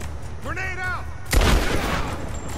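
A grenade goes off in Rise of the Tomb Raider, landing as a single loud, sharp blast that decays into a rumbling tail, coming right after a brief voiced call and a tonal game sound.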